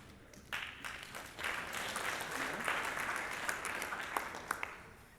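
Applause from an audience at an award ceremony, starting faintly and then swelling into steady clapping with a few sharper claps standing out, heard from a distance.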